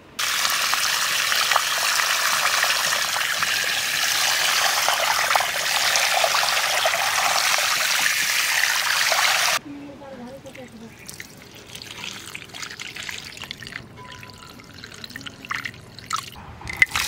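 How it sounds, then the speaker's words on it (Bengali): Rice being washed in water while preparing mutton dum biryani, a steady splashing, trickling wash for about ten seconds, then quieter kitchen sounds with faint drips and clatter. "চাল কটা ধুয়ে একটু জলের মধ্যে ভিজিয়ে রাখি"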